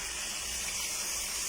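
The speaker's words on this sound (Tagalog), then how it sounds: "Lagyan na natin siya ng sabaw." Hot broth pours into a pot of chicken tinola, a continuous, close, rushing gush of liquid with no talking over it.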